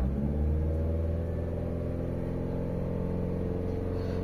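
A Chevrolet Aveo engine is revved up and held, giving a steady rumbling drone with no talk over it.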